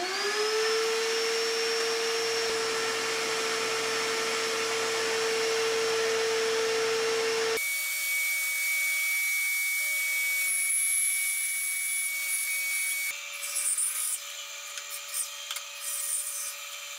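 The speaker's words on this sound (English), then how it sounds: "cut it out with the bandsaw" A bandsaw cuts a wooden arm piece for a whirligig: a loud, steady motor whine, then the tone changes abruptly partway through as the blade works the wood, with scattered rasping bits near the end.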